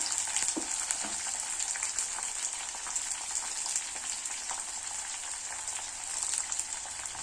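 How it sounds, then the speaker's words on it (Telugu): Chopped tomato fries lightly in an oily pan for a stuffed brinjal curry, giving a steady, close sizzle with a bright hiss and a couple of soft knocks near the start. "ఆ టమాటాను కూడా ఇందులో వేస్తున్నాను. లైట్గా ఫ్రై అవనిచ్చి"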